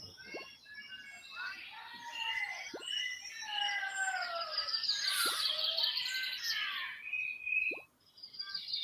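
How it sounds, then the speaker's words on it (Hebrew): Several birds chirp and trill close by in varied bright, overlapping phrases, with a few sharp clicks or knocks scattered between the calls and no talking. "עכשיו בואו ננסה להתמקד רק בציוץ הציפורים."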